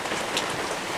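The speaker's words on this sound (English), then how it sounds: "and it's starting to rain." Rain falling on a surface, a dense, steady patter of drops at moderate loudness with no voices, over a short stretch.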